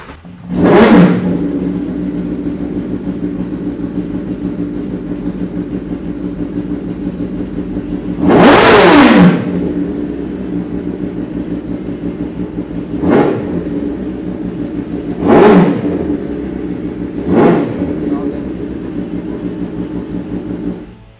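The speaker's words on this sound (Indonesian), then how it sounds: "itu dia tadi teman-teman suara dari ZX-10R" A Kawasaki ZX-10R sport motorcycle engine idles steadily, then revs hard five times in separate bursts, one long roar followed by shorter sharp blips, close and loud.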